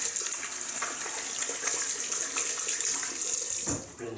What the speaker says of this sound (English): Rinse the hands.